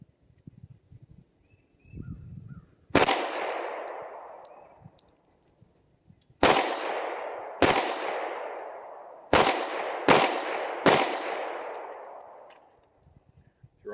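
A SIG P320 X Compact pistol fires at an outdoor shooting range. Six loud, sharp shots ring out at irregular intervals, the last few closer together, each trailing off in a long echo.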